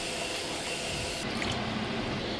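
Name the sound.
pouring a can of water into the pot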